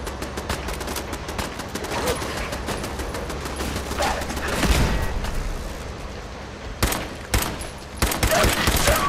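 Fallout 4 gunfire, sustained bursts of shots with sharp cracks and booms, loud and near, running continuously with little speech.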